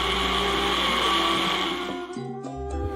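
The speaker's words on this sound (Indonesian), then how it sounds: "di blender sampai halus" A kitchen blender whirs loudly and steadily as it purees a mix of ingredients with water until smooth. The motor hum stays constant, then winds down and shifts pitch near the end.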